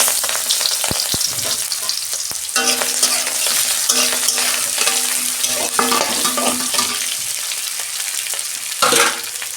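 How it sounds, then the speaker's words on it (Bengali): Onions sizzle loudly in hot oil in a home wok after dried fish has been fried in it, with scraping spoon strokes stirring them and a steady crackling fry throughout. "পেঁয়াজটা আমি ভালো করে ভেজে নেবো লাল লাল করে 2 মিনিট"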